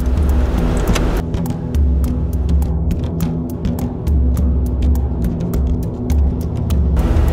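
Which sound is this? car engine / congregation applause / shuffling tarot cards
car engine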